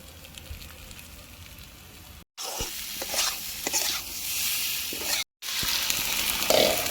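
Spiced mutton fat sautéing in a pan, with turmeric, chilli, cumin and coriander powder, gives a steady close sizzle broken by scraping stir strokes, two brief cuts of silence interrupting the frying.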